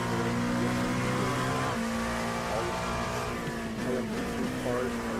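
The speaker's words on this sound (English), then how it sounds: "Just listen to that V8." Sustained, loud engine note from a 4.2 V8 LMP2 prototype in a sim race at Road America at night, revving through gear changes with rising and falling harmonics and a hint of tyre squeal, while a commentator talks underneath.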